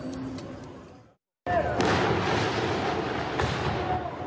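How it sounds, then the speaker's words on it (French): Firework mortars are fired at a square in Paris at night, aimed at drug users. A loud, sustained roar of booming blasts follows a brief gap of silence, with sharp cracks rising over it and voices in the background. "des individus tirent au mortier d'artifice contre les toxicomanes présents sur la place"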